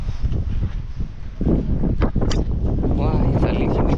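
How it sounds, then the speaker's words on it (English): Strong wind from an approaching storm buffets the microphone on a house roof under construction in Jamaica, with low rumbling gusts, while faint voices are heard underneath. "it's a little bit windy"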